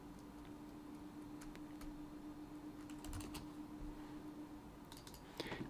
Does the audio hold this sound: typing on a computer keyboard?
yes